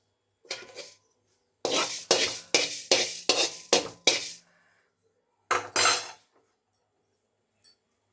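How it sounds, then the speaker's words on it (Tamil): Fenugreek seeds dry-roasting in a pan for tamarind rice paste, with a series of short scraping, rattling stirs in quick succession, then a pause and two more bursts and a faint final clink. "ஒரு 50 கிராம் 25 கிராம் போல் வெந்தயம் எடுத்துக்குங்க. அதையும் வறுத்துக்கலாம்."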